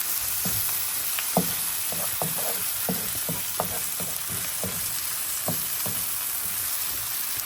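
Small puti fish frying in a pan, a dense steady sizzle with scattered soft pops and occasional stirring clicks, close and continuous with no talk.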